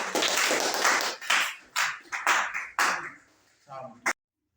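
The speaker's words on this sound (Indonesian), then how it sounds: "Mari kita beri aplaus untuk kelompok 3." Classroom applause for a student group after a presentation, bursts of clapping from several people in a room, loud at first and tapering off with a few scattered claps.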